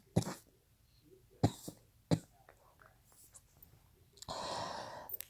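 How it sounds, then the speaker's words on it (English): Someone with a cold coughs three times in short, close bursts spaced about a second apart, followed by a longer breathy exhale. "I'm still coughing because of all this cold that I got"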